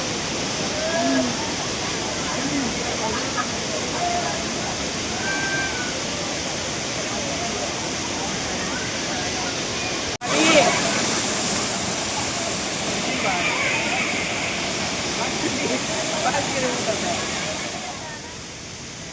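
A waterfall roars as a continuous broadband rush of falling water, steady and close throughout, with a sharp knock partway through.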